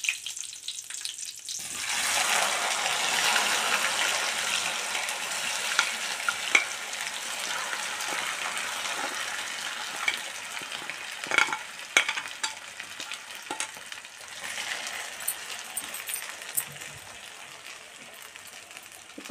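Potato pieces drop into hot oil with curry leaves in a pan, setting off a sudden loud sizzle that holds steady and slowly fades, with occasional clinks and scrapes of stirring and no voices.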